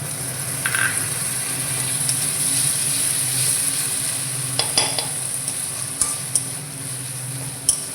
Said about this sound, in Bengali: মশলাটা শক্ত হয়ে গেছে বলে আমি এতে একটু জল দিয়ে দেব